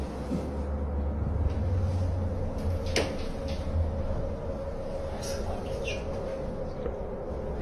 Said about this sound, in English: The door gonna slam hard as shit.